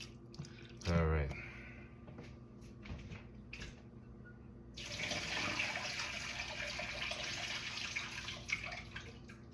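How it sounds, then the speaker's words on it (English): Sea moss rinsed under a running kitchen tap, a knock and handling sounds at first, then a steady rush of water that carries on to the end, with speech faintly mixed in. "now that we have it rinsed with the tap water"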